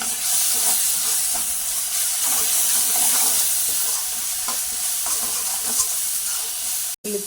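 Two tablespoons of freshly pounded ginger-garlic paste fry with reddish-browned onions for a Telangana-style paneer curry, making a loud, steady hiss with light stirring noises and a sudden momentary cutout near the end.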